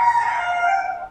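A rooster crows once in a poultry competition hall in Shah Alam, a single clear, fairly close cock-a-doodle-doo lasting about a second.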